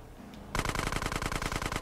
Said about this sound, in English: waiting for them to spawn and then shooting them